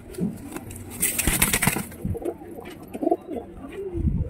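Lotan pigeons, one black and one white, coo softly in low repeated bursts at close range over faint background rustling.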